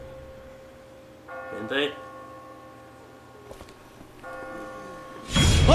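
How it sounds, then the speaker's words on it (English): In The Walking Dead video game, bells ring out twice as bright metallic clangs, separated by a pause. A voice speaks between them, and a loud noise bursts in at the end. "I just got spooked by those bells."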